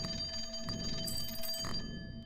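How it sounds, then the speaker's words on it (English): Telephone ringing inside the slot-machine room of the horror video game Cloverpit, a steady electronic ring with repeated bursts over a constant tonal hum, moderately loud and alone without speech. "Okay, I know that's the phone this time."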